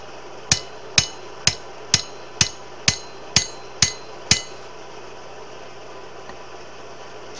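A hammer draws out a long taper on a steel knife blade at the anvil, ringing with eight sharp, evenly spaced blows about half a second apart, then falling quiet over a low background hum.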